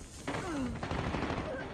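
Bursts of gunfire crackle amid a dense, noisy Call of Duty Mobile multiplayer soundscape, with a low groaning voice briefly underneath.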